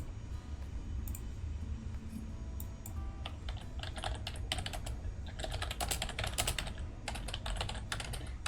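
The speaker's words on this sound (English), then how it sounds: "Let me show you what I'm typing here." Computer keyboard typing during a From the Depths building session, with sparse clicks building into rapid, dense bursts of keystrokes over steady low game hum.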